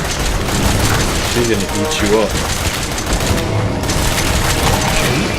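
Dense, rapid bursts of heavy gunfire and booms from Resident Evil 7 fill the scene as a pursuer closes in, with a voice talking over the loud, continuous blasts.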